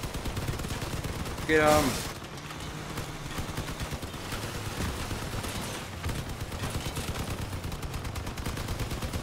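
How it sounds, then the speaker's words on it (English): Rapid automatic gunfire in the vehicle combat game Crossout, rattling in fast continuous bursts under a player's voice, with a brief rising whine partway through. "I'm just shooting."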